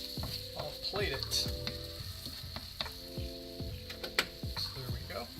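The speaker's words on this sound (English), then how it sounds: "I am just going to give it a quick mix, and I'll plate it." A Gardein beefless tips pepper steak stir fry sizzles quietly while being stirred, with scattered scraping and clacking strokes of a utensil over a low frying hiss and faint background tones.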